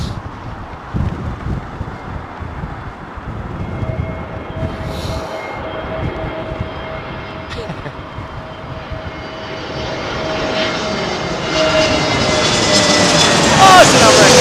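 Airliner with modern high-bypass jet engines at a windy Heathrow Airport, a loud, steady engine roar that swells toward the end, with no clear speech in the clip.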